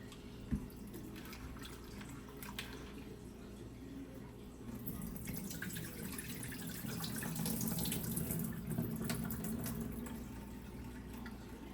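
Tap water runs steadily over a pumpkin in a sink, a continuous hissing splash that grows slightly fuller partway through, with a brief knock near the start.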